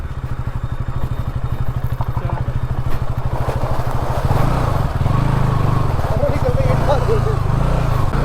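A motorcycle engine thumps steadily at low revs as it is ridden out over leaves on a slippery trail, its tone shifting partway through as the throttle changes, close and continuous throughout.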